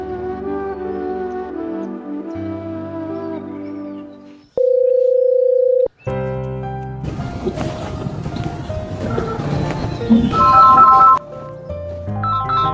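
A telephone dial tone on a mobile phone call, a steady, clear, loud single-pitched tone lasting about a second, set between stretches of background music.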